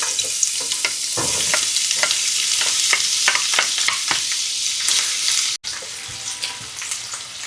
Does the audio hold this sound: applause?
no